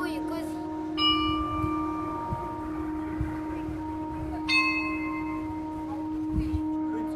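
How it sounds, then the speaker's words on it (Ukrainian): Orthodox church bells tolling for the dead, two clear resonant strikes several seconds apart, each ringing out and lingering over a steady background hum. "в православних храмах Київського патріархату били поминальні дзвони за жертвами геноциду кримських татар"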